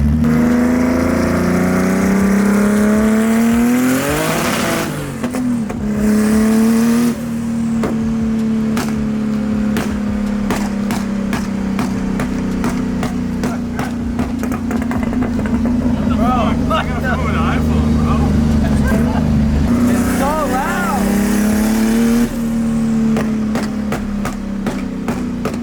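A Nissan GT-R's engine drones steadily nearby at a constant pitch, swelling in two brief revs as it drives.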